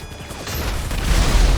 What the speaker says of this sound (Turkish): müthiş bir patlama